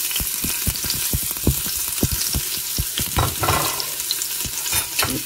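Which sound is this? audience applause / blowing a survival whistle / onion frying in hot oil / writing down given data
onion frying in hot oil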